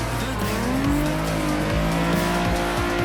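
A Nissan 350Z holds a sharp drift angle, its engine droning steadily while tire squeal wails over it, loud and close throughout.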